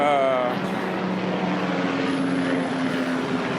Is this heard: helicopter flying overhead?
yes